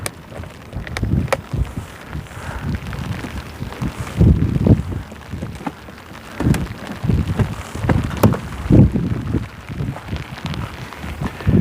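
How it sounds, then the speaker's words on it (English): Rain falls steadily on a rock wall at an Australian fishing spot, a dense wash of patter mixed with gusty wind buffeting the microphone and scattered sharper drops and knocks throughout. "Just let's wait for this rain to disappear"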